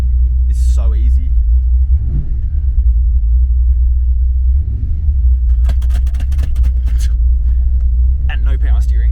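A manualized Pro Ratchet Turbo 400 drag car with exhaust cutouts idles with a loud, steady, deep engine rumble that lasts throughout, with brief voice sounds at the start and end.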